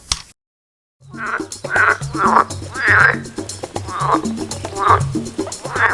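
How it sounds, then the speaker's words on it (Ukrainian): A frog croaks in a series of loud, rhythmic calls, about one per second, after a short silence. "щось квакає. Це що? Підводна курка?"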